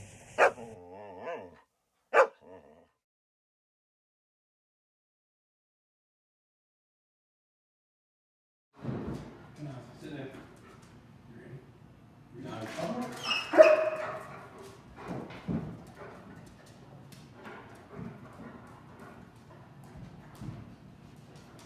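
A police K9 German Shepherd in training gives a few sharp, close barks in the opening seconds, then falls quiet before scuffling, movement and handler activity follow.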